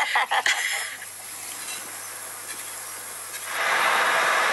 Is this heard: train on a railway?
yes